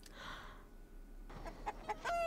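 Chickens clucking in a scene from the Fallout TV series, a few short soft clucks arriving near the end after a brief muffled passage, quiet and close.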